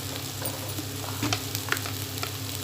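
Fish gravy masala with half a spoon of chili powder fries in a pan, giving a steady close sizzle with small crackles and stirring scrapes throughout, no voices.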